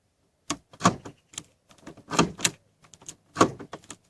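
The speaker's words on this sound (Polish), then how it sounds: "Otwierając tutaj drzwi" A Seat car door being opened, heard as a quick series of sharp clicks and latch clunks with brief gaps between them, close and fairly quiet.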